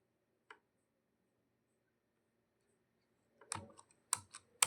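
Enter is pressed on a computer keyboard during Tally Prime entry work. One isolated key click is followed by a long silence, then a close burst of several sharp clicks and taps.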